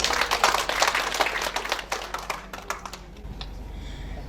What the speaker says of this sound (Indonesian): Tepuk tangan untuk CMMI.